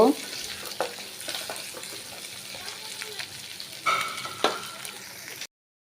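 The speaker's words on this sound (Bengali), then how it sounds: "একটু ভাজা ভাজা করে নেব। সাথে দিয়ে দিব ওই যে এখানে আছে পেঁয়াজের কলি আর গাজর।" Spring onion stalks and carrot fry in a pan with a steady crackling sizzle, broken by occasional scraping and clattering stirs, close by and with no talking.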